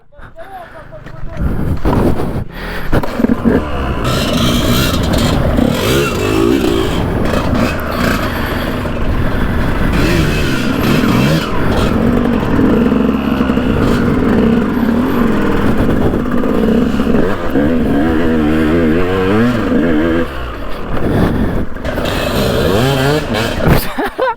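A motorcycle engine revs and roars with rising and falling pitch, loud and steady throughout, while people talk over it.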